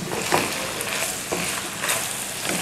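Chicken frying with capsicum, green chilies and spring onions, a soft continuous sizzle with a few louder scrapes and stirring rustles, close up and without speech.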